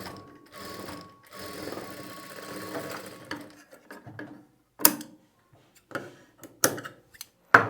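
A sewing machine stitching piping onto a blouse, a faint voice at first, then short separate bursts of rapid mechanical ticking with quiet pauses between them.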